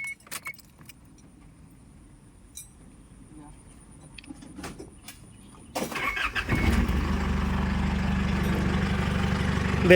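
A car engine starts at a well-drilling site after a stretch of key jangling and light handling noises. The engine catches and settles into a steady, loud idle as it warms up.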